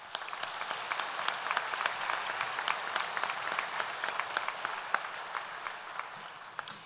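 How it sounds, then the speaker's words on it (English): Audience applause fills a graduation ceremony hall, a dense, steady wash of many hands clapping at an even level for several seconds with no talking over it. "A warm round of applause for these master teachers."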